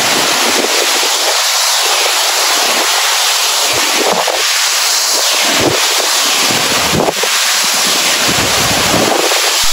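Skjervsfossen waterfall in Ullensvang, Norway, pours with a steady broadband roar of rushing water, loud and continuous throughout, mixed with gusty wind buffeting the microphone and no voices.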